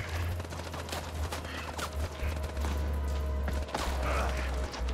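Gunfire in the video game House of Ashes: a dense burst of rapid shots and heavy thuds rolls continuously over a low rumble, loud and close throughout, with a little speech mixed in.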